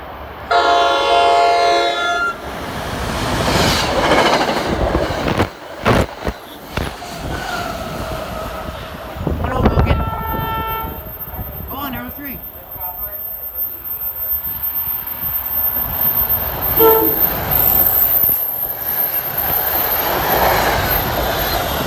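NJ Transit express train to Hoboken with an ALP-45DP locomotive trailing, passing through Maplewood, New Jersey: a loud horn sounds up front, then steady rumbling wheels and some squeal as the cars roll by close.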